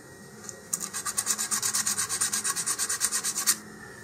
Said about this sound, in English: I'm going to take some 100 grit sandpaper here, and I'm just going to work my way around